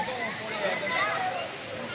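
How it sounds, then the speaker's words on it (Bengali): Large waterfall at a rock garden in Darjeeling, a steady broadband rush of falling water that holds even and continuous throughout, with no clear voices over it. "অনেক বড় ঝর্ণা এটা।"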